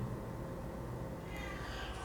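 Cats at a shelter for stray and abandoned cats, faint mewing blended into a steady background hum, soft and somewhat distant.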